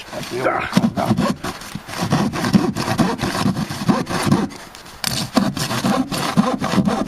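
Hand saw cutting through wood during a garden tub rip-out, a steady rasping back-and-forth stroke close by, running continuously with a short pause midway, while someone talks over it.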